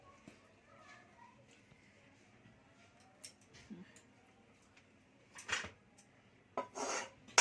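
Chicken masala being poured and scraped into a metal tiffin carrier, with faint rubbing, light clinks of metal and a few louder scraping clatters near the end, close and fairly quiet.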